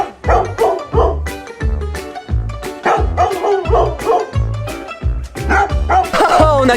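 A dog in a video game barks loudly and repeatedly, about a dozen evenly spaced woofs close up, with occasional yips between them.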